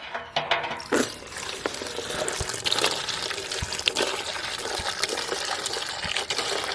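Fuel drains from an opened drain plug, a continuous splashing, gurgling liquid stream with scattered drips and clicks, moderately close with no talking.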